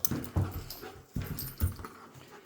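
A dog whimpers and pants up close, short breathy huffs and soft whines repeating in an uneven rhythm, fairly quiet overall.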